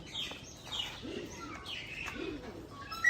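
A female Napta pigeon gives two soft, low coos close by, with faint chirps in a quiet background.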